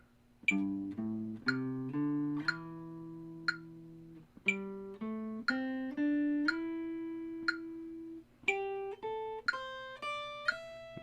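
Plucked guitar notes sliding between pitches in a steady pulse, with faint regular clicks keeping time underneath; close and clear, no voices.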